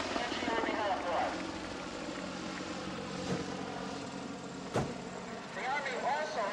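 An Army helicopter makes a maximum performance vertical climb to 2,000 feet at a heliport demonstration. Its rotor and engine give a constant loud, broad roar with a thumping texture, and an announcer's voice is heard over it.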